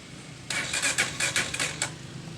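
Honda TMX Alpha 125 motorcycle, recently dead and hard to start, cranking over: a close, rapid sputtering chug of uneven pulses lasting about a second and a half, then fading to low background.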